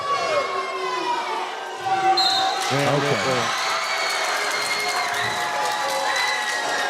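A packed gym roars and cheers throughout a district volleyball match between Wolfe County and Breathitt County, with loud, continuous crowd noise, a short horn blast partway through, and commentators talking over the din.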